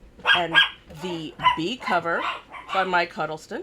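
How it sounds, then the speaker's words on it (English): Dogs bark indoors in short bursts, mixed with and under a person speaking steadily throughout. "Sorry about the dogs, they must have heard something outside."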